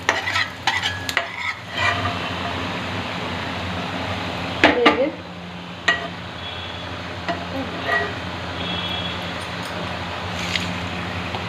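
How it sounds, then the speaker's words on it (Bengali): Cashews and raisins fry in melted ghee, sizzling steadily throughout. Sharp metallic scrapes and clanks of stirring in the pan break through several times, loudest near the middle. "ঘিটা গলে গেলে সবার প্রথমে কাজু কিচমিচগুলো আমি একটু ভেজে তুলে রাখবো"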